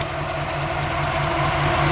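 A 1954 Mercury Monterey coupe with a new Edelbrock carburetor idles steadily up close, a low even rumble with a faint rhythmic pulse and no voices over it.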